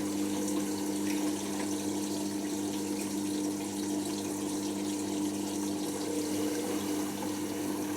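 A waterlogged washing machine under diagnosis, filling with water: a steady, continuous rush of inflowing water with a constant pump-like hum running unbroken throughout, fairly close and with no talking.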